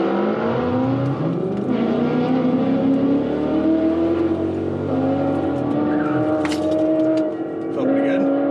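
Cars racing at a drag strip, one being a Ford Ranger and one a Q45 that just did a burnout, with loud engines revving and accelerating hard, tires squealing, and a car roaring past, all under talk.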